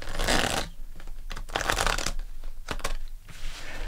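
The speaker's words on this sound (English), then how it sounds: "I'm going to pull two cards for love," Tarot cards being shuffled and pulled for a reading, a run of crisp riffling and flicking bursts separated by short pauses, close and fairly loud with no talking.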